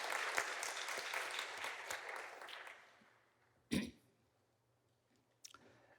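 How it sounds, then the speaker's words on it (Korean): Congregation applauds the choir and orchestra at a Sunday church service, a dense round of clapping that fades out over a few seconds, followed by a couple of isolated thumps in the quiet. "우리 성가대와 오케스트라 단원들을 위해서 감사와 격려의 박수 한번"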